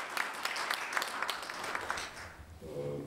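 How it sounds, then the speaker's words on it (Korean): An audience claps at a university scholarship certificate ceremony, a moderate burst of applause with distinct claps that fades after about two seconds. A voice begins speaking at the end. "박수 큰 박수."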